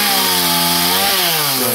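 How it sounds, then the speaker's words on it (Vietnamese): A chainsaw cuts into a yellow-flowered acacia tree leaning toward a house and a pit near a fish pond, its engine snarling loud and steady throughout, with the pitch shifting as the blade bites into the wood. "Bắt đầu cưa nha các bạn"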